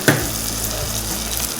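Chickpeas and beans sautéing with turmeric and chili powder for Pongal kuzhambu, a steady close sizzle in a hot pan opened by a sharp clink of a spoon and stirring.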